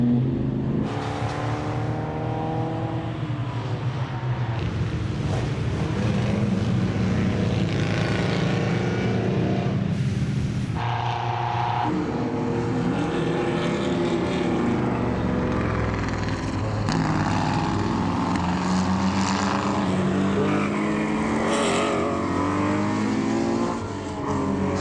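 Classic cars race around a hilly circuit of climbs, descents and blind corners during the Tour Auto, with loud engines roaring, revving and passing one after another close by throughout, some pitches rising and falling as cars accelerate and shift.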